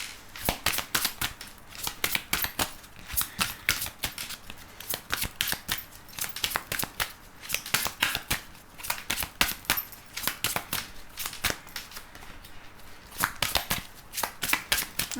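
Tarot cards shuffled for a love reading, a long run of crisp, rapid riffling bursts repeating steadily close up, with no talk over them.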